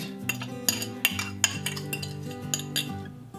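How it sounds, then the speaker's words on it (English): A metal utensil scrapes and taps repeatedly against a frying pan, scraping out eggshells, with irregular clinks over a steady low tonal hum. "Just try to scrape out these shells and all that you can."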